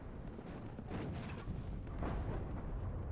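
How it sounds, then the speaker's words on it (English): Artillery shells land in the WARNO real-time strategy game as a low, rolling series of muffled booms and rumbling impacts at moderate distance, with no talking. "And artillery coming in now."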